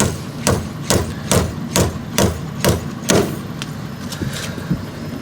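Slide hammer yanking a part off a Fiat 500 Lounge: a steady series of about eight sharp metallic impacts roughly every half second, loud and close. A few softer, scattered knocks follow, with no talk.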